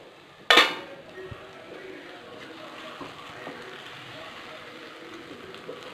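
A lid comes off a covered Mysore pak tray holding a steamed flour dish with one sharp metallic clank, followed by a quiet, steady hiss.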